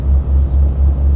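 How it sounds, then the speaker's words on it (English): A lorry engine in the Euro Truck Simulator 2 video game drones as a steady low rumble, loud and close with a slight pulsing throb and no talk. "something I do seem to like about is the engine sound"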